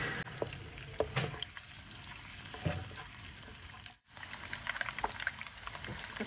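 Onions fry in hot oil for a mackerel curry, giving a soft, steady sizzle and crackle with scattered pops and a brief dropout midway.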